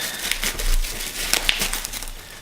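A blade slices into the packaging of a tiny iPhone-like phone, giving close crinkling and scratchy cutting rustles with a few sharp snaps.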